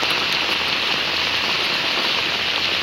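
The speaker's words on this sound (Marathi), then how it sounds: "मित्रांनो पाऊस आला आता मोबाईल ठेवायला लागेल मला वाटतं." Rain pours down outdoors during a fishing outing, a loud, dense and unbroken patter on the surrounding surfaces that holds steady throughout, with nobody speaking.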